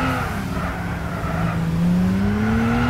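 A turbocharged race car engine in Gran Turismo drones loud and close, its pitch climbing steadily as it accelerates through the whole stretch, with no talk over it.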